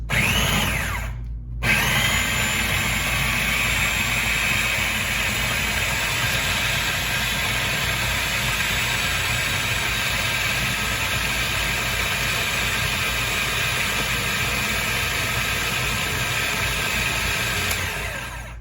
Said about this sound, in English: I'm going to process it on high for a few minutes.